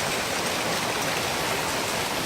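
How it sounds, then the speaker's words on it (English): Water from a hailstorm runs off a roof, forming a steady, dense rushing and splattering wash that continues without a break. "That's the water coming off the roof here."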